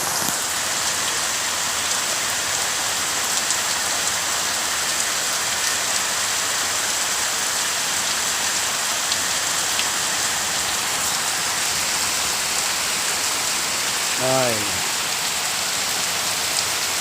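Heavy downpour in a rural village, a dense, steady roar of rain drumming on surfaces throughout with no pauses, and a brief faint tonal sound near the end.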